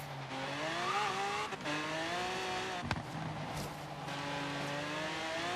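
A Lamborghini Miura racing in Forza Horizon 3, its engine note rising and falling through gear changes with brief tire squeals and a sharp impact, loud and continuous with no talk.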